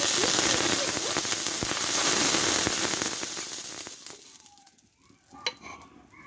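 Chitoi pitha batter, a rice-based cake cooked in a kadai, frying with a loud crackling sizzle that gradually dies down to quieter scattered pops and a few sharp clicks near the end.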